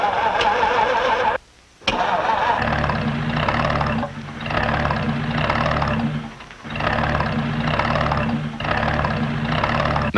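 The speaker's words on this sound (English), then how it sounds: "would you please start engine B?" A truck cab engine with no fan clutch cranks and roars into life, then runs loud and unsteady with a pulsing, surging drone that rises and falls every couple of seconds.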